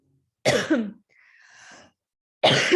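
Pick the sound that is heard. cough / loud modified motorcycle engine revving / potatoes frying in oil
cough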